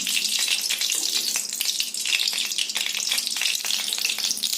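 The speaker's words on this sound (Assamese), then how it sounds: "এয়া 2 চামুচ ঘি দি দিলোঁ" Ghee sizzles loudly in hot oil inside a pressure cooker, a dense, steady frying hiss close by with light crackles and no voices.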